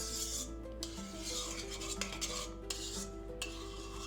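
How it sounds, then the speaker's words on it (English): Active dry yeast is stirred into liquid with a utensil, giving soft repeated scraping strokes against a bowl at a quick rhythm, close and quiet. "I'm just gonna give this a quick little stir"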